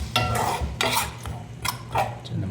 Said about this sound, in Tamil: அந்த தாலில் அப்படியே இந்த தாலில் கொஞ்சம் அப்படியே லைட்டாக மிக்ஸ் பண்ணிவிட்டுருங்க.